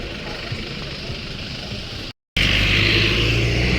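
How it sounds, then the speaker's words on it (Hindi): Vans pulling away from the World Book Fair at Bharat Mandapam, a steady loud engine rumble that drops out briefly and then returns stronger with a low idling drone, no talk. "ये आवाज करती हुई गाड़ियां अपने गंतव्य की तरफ निकल चुकी है"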